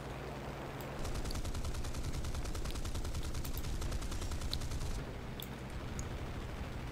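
Aircraft cannons fire in War Thunder as a dense, continuous rapid burst lasting several seconds, loud and unbroken, over steady engine and battle noise.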